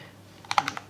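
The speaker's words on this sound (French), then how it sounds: "vous pouvez prendre des notes, écrire simplement avec le clavier" Keys clack on a keyboard connected to a Samsung Galaxy Tab S7+ tablet: a quick burst of about five close, crisp keystrokes after a near-silent start.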